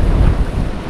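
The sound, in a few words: strong wind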